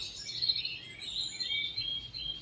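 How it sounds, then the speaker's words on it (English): Birds chirp and sing steadily at a moderate distance, high-pitched calls repeating without pause and no voices present. "reduce that sound of the birds"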